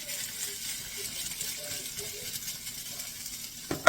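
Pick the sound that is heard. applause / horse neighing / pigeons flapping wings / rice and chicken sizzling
rice and chicken sizzling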